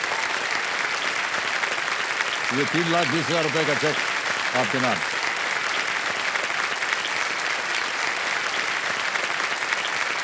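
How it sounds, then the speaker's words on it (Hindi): Studio audience on the KBC game show keeps up steady, loud applause throughout while the host speaks briefly over it partway in. "तालियां बज जाए इनके लिए।"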